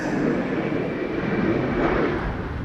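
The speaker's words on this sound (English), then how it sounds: "This is an M190 KLM. And it is arriving from Copenhagen." A KLM Embraer 190 airliner arriving at Schiphol Airport from Copenhagen, its engines giving a steady, broad roar that holds at an even level throughout, with no talk.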